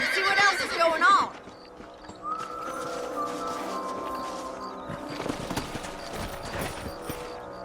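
Horse in the Red Dead Redemption video game gives a loud whinny at the start, followed by steady clip-clop hoofbeats of horses walking under background music and game ambience.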